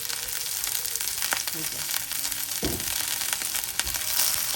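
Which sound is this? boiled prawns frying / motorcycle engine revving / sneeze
boiled prawns frying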